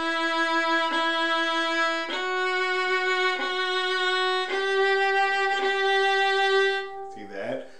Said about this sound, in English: vibrato is where you put a wiggle on the note.